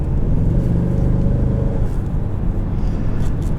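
A 2020 Ford Mustang EcoBoost convertible's turbocharged engine pulls hard under acceleration, a steady loud rumble with a rising drone heard from inside the car.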